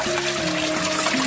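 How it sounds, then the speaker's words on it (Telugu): Water pours between boulders at a little-known waterfall near Tuni, a steady close splashing and gurgling flow that sounds alone. "అక్కడ చూడండి ఆ బౌల్డర్స్ మధ్య నుంచి, ఆ రాయల మధ్య నుంచి వాటర్ ఎలా వస్తుందో"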